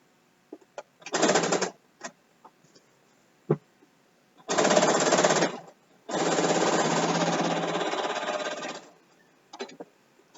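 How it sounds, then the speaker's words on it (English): A sewing machine stitches binding onto a quilt in several bursts, a short run, then a longer one and a sustained run of about three seconds, with quiet clicks and handling between them. "and then I sew over it."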